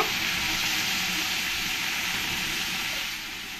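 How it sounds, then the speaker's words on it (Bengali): Water going into red lentils (masoor dal) frying in a pan makes a loud, dense, continuous hiss and sizzle that holds steady for several seconds, then drops slightly near the end. "এবার আমি মসুর ডালের মধ্যে জলটা দিয়ে দেব।"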